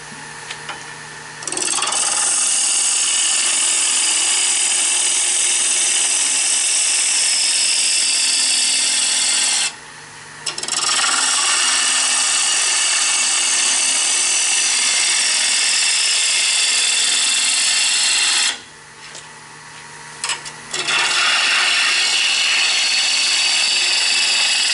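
Wood lathe roughing out a turning with a hand tool at a woodturners' club demonstration: a loud, steady scraping hiss of the cut running continuously, broken by two brief pauses where the tool lifts off the wood.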